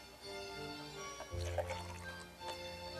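Two-part liquid urethane being poured together from one cup into another: a soft, close liquid pour with light splashing and trickling, gentle and low in level, no one talking.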